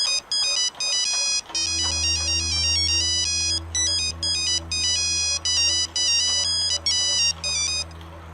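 A looping electronic phone ringtone plays loudly and steadily for several seconds, a repeating bright melodic pattern over a low sustained tone.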